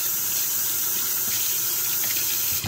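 Newly installed kitchen faucet running hot water into a sink, a steady close splashing stream that flows continuously without interruption and with no voices.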